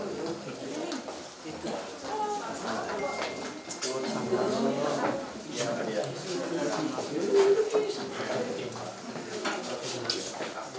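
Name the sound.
bird cooing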